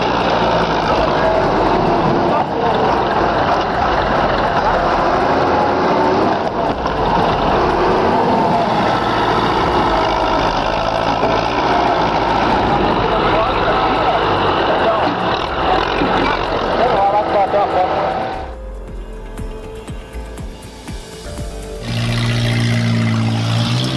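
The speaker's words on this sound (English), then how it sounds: "Two tractors, a crew of men, and one stubborn tree stump that refuses to let go of the earth." Two tractors straining to pull out a stubborn tree stump, heavy diesel engines droning loudly and steadily for a long stretch, then dropping away briefly before the rumble returns near the end.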